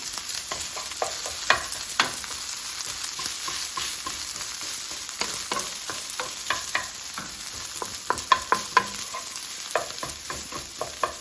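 Rice is stir-fried in a hot pan with salt, a continuous sizzle broken by frequent scraping and tossing clatters of the utensil, close and fairly loud, with no talking.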